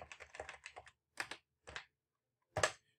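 Code is typed on a computer keyboard while writing a C++ program, crisp close keystrokes in a fast burst followed by a few isolated taps, with silence between them.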